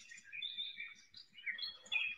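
Recorded birdsong from a white noise sound machine: continuous bright chirps and trills filling the stretch, fairly quiet and unbroken, with no voices.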